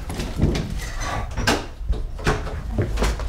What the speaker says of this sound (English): every day when I have to open the door.